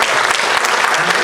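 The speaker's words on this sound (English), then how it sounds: "So another round of applause for her." An audience at an NDTV Banega Swachh India campaign event bursts into loud, dense applause, a continuous wash of many hands clapping close by.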